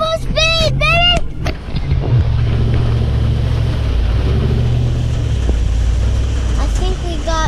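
A vehicle's engine roars continuously while the vehicle bogs down deep in a huge mud puddle during Hurricane Milton, with loud wind-like rumble throughout and a burst of voices shouting near the start.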